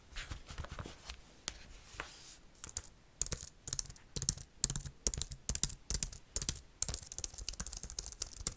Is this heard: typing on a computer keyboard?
yes